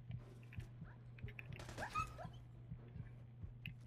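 A dog in the Fallout 4 video game whimpers and yips in short bursts over a steady low hum, with a louder flurry of game sound effects in the middle.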